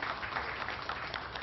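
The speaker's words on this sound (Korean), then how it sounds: "박수가 터져나오고 있고요." Applause from a crowd at a New Politics Alliance for Democracy candidate nomination ceremony for by-elections, a steady dense clapping wash that holds evenly throughout with no voices above it.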